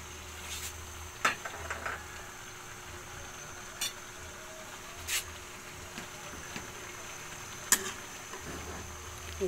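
Cabbage and corned tuna sizzle softly in a pan while a utensil stirs them, giving occasional clinks and scrapes against the pan over a low, steady frying hiss.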